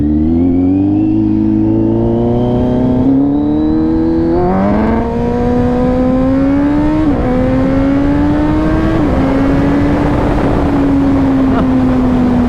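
A Kawasaki Z900 with a LeoVince full exhaust roars loudly and close, its pitch climbing in stepped pulls through the revs across the whole stretch, with wind rushing underneath.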